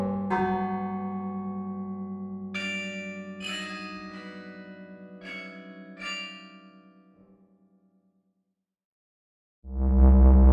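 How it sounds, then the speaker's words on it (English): The six-ton bourdon, the lowest bell of the University of Michigan campanile on North Campus, rings in several struck tones that hum and decay slowly, then fall silent before another loud strike begins. "Its bourdon, the lowest bell alone, weighs 6 tons."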